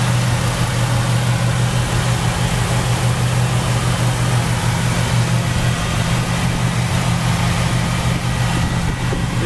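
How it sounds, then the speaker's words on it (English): A 1967 Chevy Chevelle SS convertible's big-block V8 runs on fast idle on a cold day, a loud, steady, close rumble that holds an even pitch throughout with no voices. "It's still on fast idle right now."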